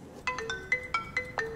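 A phone ringtone plays a quick melodic pattern of short beeping tones, repeating several times at moderate volume.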